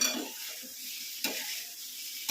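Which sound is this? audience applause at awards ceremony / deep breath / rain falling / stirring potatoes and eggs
stirring potatoes and eggs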